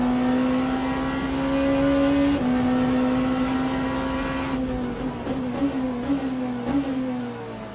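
Race cars in the Le Mans Ultimate sim at COTA, with a pink Peugeot locking its front brakes: a loud, steady engine whine shifts down in pitch, followed by flickering revs and downshift blips near the end.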